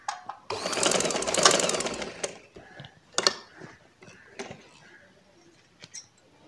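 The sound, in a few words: sewing machine stitching baby frock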